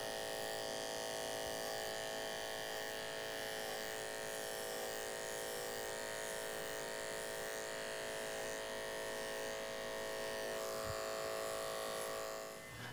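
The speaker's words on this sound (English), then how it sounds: "Now here's where you need to move the clipper slower." Electric hair clipper working slowly through a model's hair during a low fade with side part haircut, a steady close buzzing hum with a harmonic whine running unbroken for the whole stretch.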